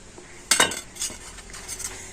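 A knife cuts through food on a board while a snack is prepared, giving a sharp clack followed by a few lighter taps and scrapes, close by, with no talking.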